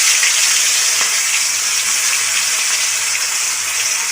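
Chopped onion hitting hot oil in a wok at the start of a fish bhuna sets off a loud, even hiss that holds steady for a few seconds with no voices.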